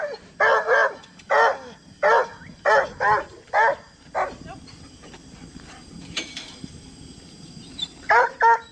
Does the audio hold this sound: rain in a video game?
no